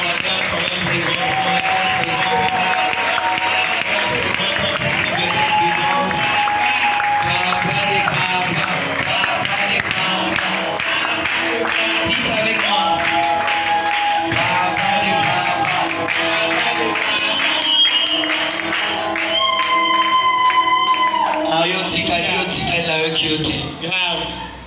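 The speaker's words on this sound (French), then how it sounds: "On acclame quand même ces grands." Audience applause and cheers for the older children at a French-speaking gathering, a steady, dense wash of clapping that continues for most of the stretch, with voices and some music mixed in underneath.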